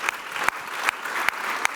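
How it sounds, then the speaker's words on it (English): A plenary audience at a conference on peace and war breaks into steady, dense applause, a sustained crowd clapping with a few sharper claps standing out, fairly close and continuous with no talking. "Please join me in a great applause to our"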